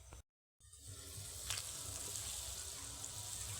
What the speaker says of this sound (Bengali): ঝোলটা ভালোভাবে ফুটে গেছে, এখন ভেজে রাখা মাছগুলো দিয়ে দেব।